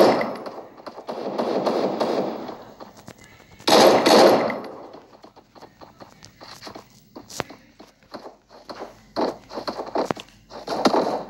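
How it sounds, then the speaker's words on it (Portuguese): Gunfire from an enemy player in the Free Fire video game, sharp bursts of rapid shots and scattered single cracks amid in-game footsteps, with a loud cluster near the start and more shots toward the end. "tem um cara atirando"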